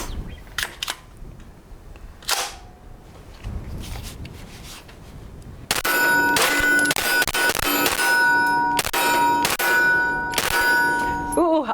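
A folding pistol-caliber carbine fires at steel targets outdoors: a few scattered shots with metallic clangs at first, then a loud, rapid string of shots, each ringing the steel, filling the second half.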